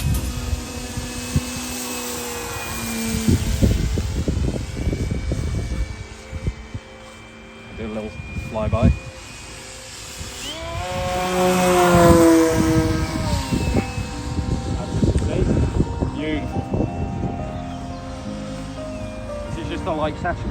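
An Arrows Edge 540 RC model airplane flies with a nose weight, trimmed, its buzzing electric motor whine rising and falling as it passes, while people talk over it.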